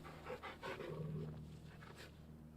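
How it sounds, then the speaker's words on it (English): A dog in a video game pants quickly and rhythmically while being petted, a soft, close breathy sound against a low, faint steady hum. "You gotta pet your dog 5 times"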